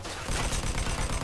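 A grease gun submachine gun fires in Mafia 2, a dense, continuous rattle of rapid shots starting abruptly and staying loud throughout.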